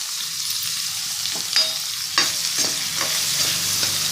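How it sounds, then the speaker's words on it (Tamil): Onions and tomatoes sauté in a pan for a keerai kootu, making a steady close sizzle with a few soft stirring scrapes and clicks and no talking. "நல்லா வதங்கட்டும்."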